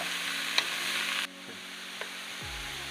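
Mushrooms with flour cook in a pan, a close, steady sizzle with an occasional stir or clink, fading briefly partway through.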